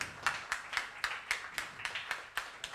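Sparse applause from a small audience at a community creativity evening, heard as a few distinct claps in an uneven rhythm, fairly faint and with no talking over it.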